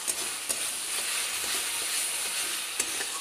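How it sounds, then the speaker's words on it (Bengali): Spice paste for Bengali doi katla sizzles and fries steadily in a pan, with a continuous close hiss and a few soft stirring knocks, no voices. "দেখো এবার সবটা মশলা এবার আরও সুন্দরভাবে কিছুক্ষণ ধীরে ধীরে কষিয়ে নিতে হবে।"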